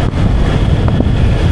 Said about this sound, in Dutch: Hopelijk verstaat je mij met al die wind.